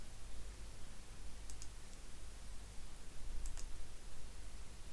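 A computer mouse clicks a couple of times, quick light ticks at close range set against a steady hiss of room noise.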